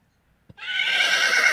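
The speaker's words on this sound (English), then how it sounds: "A horse neighs." A horse neighs in a long, bright whinny after a brief soft thump, holding steady to the end.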